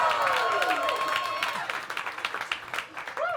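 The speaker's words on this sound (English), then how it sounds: "While we're clapping it up" A stand-up comedy audience in a Hollywood club claps while a whistle-like tone glides under the noise, and a voice comes in over the fading applause.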